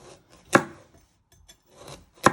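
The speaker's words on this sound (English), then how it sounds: "So once you have prepped your carrots, you just want to start slicing them" A knife slicing carrots into finger pieces on a chopping board for teriyaki chicken with roasted vegetables, giving two sharp, close chops well apart, with faint rubbing scrapes in between.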